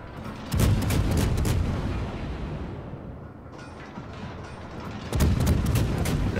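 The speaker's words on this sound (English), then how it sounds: "Landed some shells." Naval artillery in World of Warships from a Soviet Tier-10 cruiser, the Smolensk, booms in heavy rumbling salvos, with a loud volley at the start, a decaying rumble, then another strong burst near the end.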